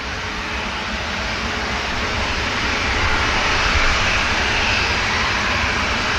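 Jet aircraft departing Manchester Airport, a Ryanair jet followed by a KLM jet, give a loud, continuous engine roar that builds slightly toward the middle, with no talk.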